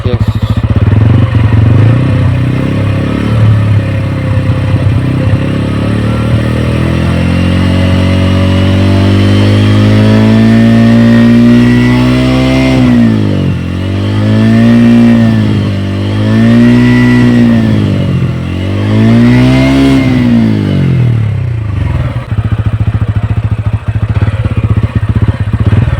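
Exhaust of a Royal Enfield Hunter 350 or TVS Ronin 225 cc motorcycle idling loud and close, then blipped through several rising and falling revs before settling back, with a voice speaking over it.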